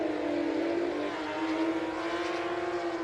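Two Porsche race cars battle closely on a track, their engines holding a loud, steady high-pitched drone with a slight rise in pitch partway through, continuous and without commentary.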